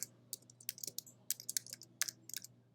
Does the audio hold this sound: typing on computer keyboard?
yes